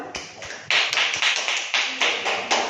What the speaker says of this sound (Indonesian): Semuanya beri aplaus kepada teman-temannya.